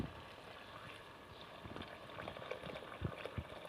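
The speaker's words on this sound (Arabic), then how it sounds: "مرقو بما سخون طبعا." Hot water is poured into a pan of fried chickpeas and aromatics, giving a steady close sizzling, bubbling wash with small pops and splashes throughout.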